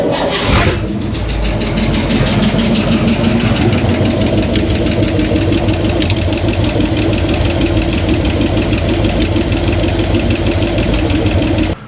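A 1963 Chevrolet C10 pickup engine idles after a Seafoam treatment, catching abruptly at the start and then running at a loud, steady, close-up idle with an even rhythmic pulse for the rest of the time, with no talking.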